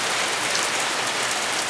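Rain pours steadily onto surfaces outside a street-side garage, a dense, even hiss with no pauses and no voices.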